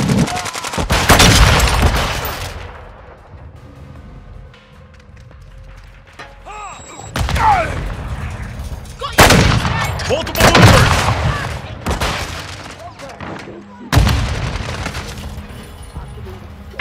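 Gunfire in the video game Call of Duty: Modern Warfare II, with loud bursts of rapid shots and booms in several clusters separated by quieter gaps, under intermittent game voice callouts.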